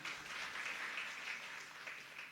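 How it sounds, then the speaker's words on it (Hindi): A crowd at a Guru Purnima gathering in Pratap Nagar, Jaipur claps together, a soft, steady patter of many hands heard from some distance throughout. "आप सब अपने लिए तालियां तो बजा लो।"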